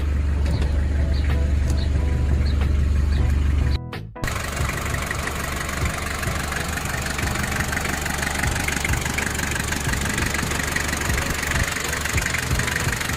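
A Toyota 2L diesel engine in a Toyota LN40 idles loudly and steadily up close, with a rough, knocking chatter after a brief thump partway through.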